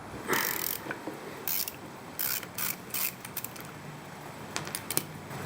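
A hand ratchet loosens the half-inch bolts on the underside of a car's transmission mount. It makes quick bursts of close, crisp clicking with short gaps between strokes, and no one speaks.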